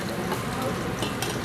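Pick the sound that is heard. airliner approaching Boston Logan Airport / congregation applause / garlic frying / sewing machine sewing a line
garlic frying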